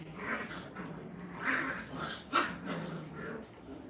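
Six-week-old puppies at a training kennel growl at one another, a steady low rumble with whimpery yips rising here and there, close by and moderately loud, with a sharper burst near the end.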